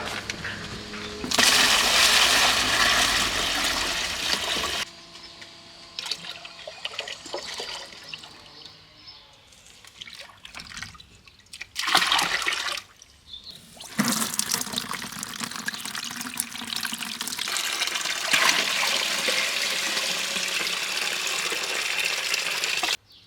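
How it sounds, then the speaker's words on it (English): Morel spore slurry diluted with rainwater being mixed and poured out from buckets outdoors, a loud continuous gush and splash of water that breaks off briefly, sloshes in short bursts, then pours steadily again. "I'll leave you with me mixing up and spreading some of the spore slurry"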